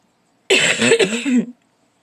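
A single harsh throat-clearing cough, lasting about a second, close and loud against silence.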